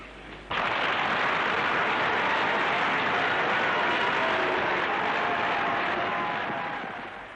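Crowd at the Congo independence ceremony breaks into sudden, sustained applause and cheering that stays loud and dense for several seconds before slowly easing, heard from a distance as broad rushing noise.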